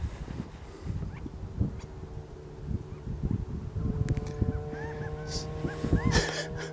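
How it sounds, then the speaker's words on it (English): Birds, apparently geese, honking on the We Ko Pa golf course, a series of calls growing busier and louder toward the end over outdoor background noise. "Damn birds."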